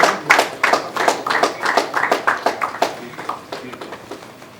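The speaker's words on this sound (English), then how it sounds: "So big round of applause for Subhash Singh as well." Clapping from a small audience at a sports league press conference, a steady patter of separate hand claps that thins out and fades toward the end, heard alone without talk.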